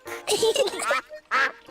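A cartoon duck quacks in short, nasal, voiced bursts: a quick run of quacks, a pause, then one more loud quack, close and clear.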